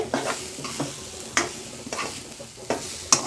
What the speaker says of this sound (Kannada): ತುಪ್ಪ ಮತ್ತು ಕೊಬ್ಬರಿ ಹುರಿತಾ ಇದ್ದೀವಲ್ಲ